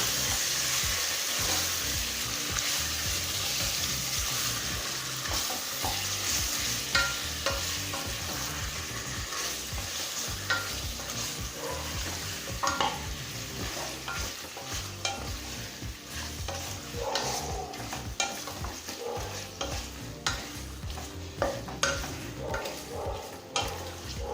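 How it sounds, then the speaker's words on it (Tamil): Chicken with salt sautés in a pressure cooker for Ambur chicken biryani, a steady close sizzle with repeated scraping stirs running throughout and no talk. "இப்போ நல்லா வதக்கிக்கலாம்."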